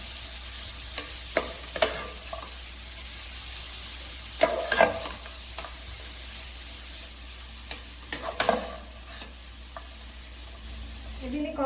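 Grated carrots, about 300 grams, sautéed and stirred in a pan for carrot halwa, giving a steady low sizzle with intermittent scraping stirs and clatters close by.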